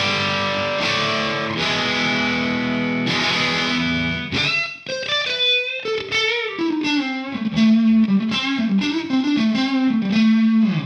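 An electric guitar played through a Torpedo Captor X on its Forest cabinet simulation: distorted, effect-laden chords ring out first, then a run of sliding, bending single-note lead lines, loud and unaccompanied by talk.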